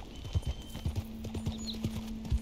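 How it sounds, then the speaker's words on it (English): A horse in Red Dead Redemption 2 clip-clops along at a steady walking rhythm, its hoofbeats close and clear over a faint sustained hum. "My horse just stepped on something."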